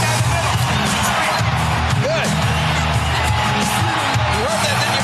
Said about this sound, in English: Tell by the sound of the crowd that DX is very over in this era.